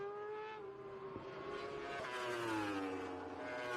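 A Kawasaki ZX6RR racing motorcycle engine screams at high revs on a road racing course, its pitch rising and falling through gear changes as the bike passes, loud and continuous with no talk.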